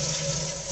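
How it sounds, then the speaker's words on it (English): A toilet flushing with a steady rush of water, loud and close, running continuously through the short moment without any talk. "Now flush."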